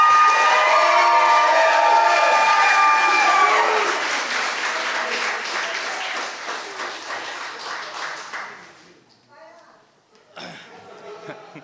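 Wedding guests applaud and cheer loudly for the father of the groom, the clapping and whoops gradually fading, then a voice begins speaking near the end.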